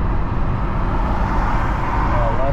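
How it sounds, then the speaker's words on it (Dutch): A car passing on the N80 expressway at night, a close, loud, steady roar of engine and tyre noise from start to end. "We gaan één auto laten voorbij steken."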